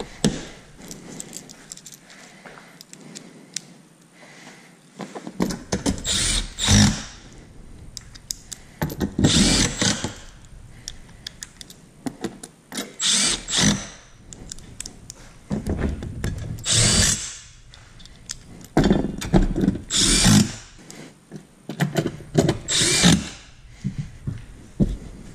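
On a car, a power tool spins out bumper bolts in repeated short bursts of whirring drill noise. Quieter gaps between the bursts hold faint handling sounds, and no one speaks.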